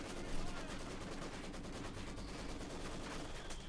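A Maxim machine gun fires outside a church in the real-time strategy game Company of Heroes 2, heard as rapid dense bursts within a constant battle din of gunfire and explosions.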